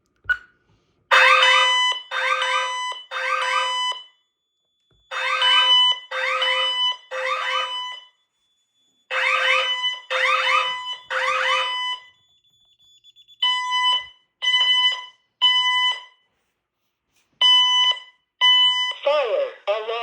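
Loud, repeated electronic fire alarm beeps in rhythmic bursts with pauses between groups from a home security system test, then a synthetic voice announcing "Fire. Alarm. Fire. Emergency." over the tones.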